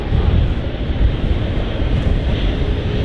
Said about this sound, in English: You can probably hear with the wind